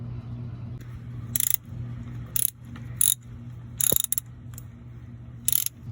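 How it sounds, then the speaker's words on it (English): A wrench works the set screw on the shift lever linkage of a 1977 Volvo 242 with an early M46 transmission, heard from underneath the car as clicking ratchet bursts in several short runs over a steady low hum. "So you unbolt the set screw"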